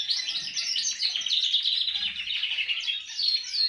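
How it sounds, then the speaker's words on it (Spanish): A canary sings a goldfinch-like song, a continuous run of bright, rapid chirps and trills heard close and clear for several seconds, with a few faint low background sounds. "También se está copiando y cada vez lo tiene más parecido a lo que es un jilguero."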